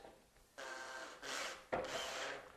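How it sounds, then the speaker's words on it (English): Screw-in dowel being driven into a finished wooden gable, with several scraping, grinding bursts of wood-on-wood rubbing at close range and short pauses between them. "put in the screw-in dowel"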